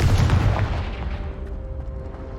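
A fiery blast from the Confringo explosion spell in the Hogwarts Legacy video game erupts loud and booming at the start, then rumbles and fades into a low lingering tail with a faint tonal hum, no voices present.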